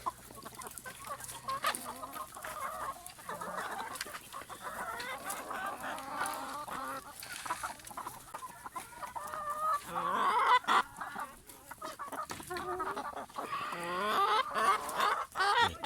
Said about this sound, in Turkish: Tavuklarımızı salalım.